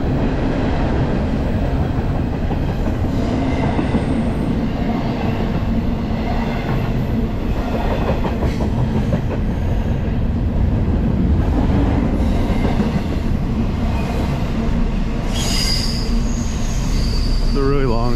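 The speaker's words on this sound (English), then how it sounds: "long train, so this could go on forever" A long snow-covered train rolls steadily past up close, wheels rumbling and clacking continuously, with occasional metallic squeals toward the end.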